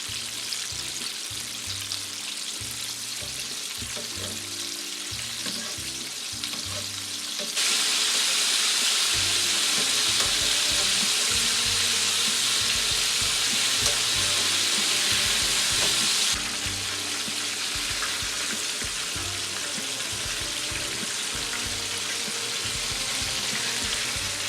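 Steady sizzling of chicken deep frying in hot oil, a continuous crackling hiss that grows louder for a stretch in the middle, with occasional clatter.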